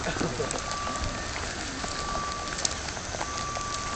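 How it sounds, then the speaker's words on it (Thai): Rain falling during a storm at a fishing park in Chiang Mai, Thailand; a steady, dense patter of drops hisses continuously at moderate loudness, with brief faint voices near the start. "ทั้งเล่นน้ำฝนด้วยนะครับ"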